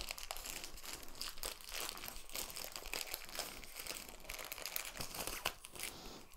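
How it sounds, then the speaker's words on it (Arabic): A plastic packet holding classical guitar strings is opened, with continuous crinkling and rustling of the plastic throughout, fairly close and steady. "هفتح كيس الاوتار"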